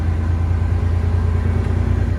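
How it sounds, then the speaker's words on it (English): Detroit diesel engine in a red Peterbilt truck runs its jake brakes, a loud, close, rapid low-pitched staccato rumble that holds steady throughout without pause. "Oh yeah, we got jake brakes."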